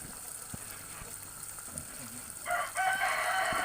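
Chickens cluck softly in a quiet, noisy coop while being fed, and a louder crowing call rises near the end against the steady hiss.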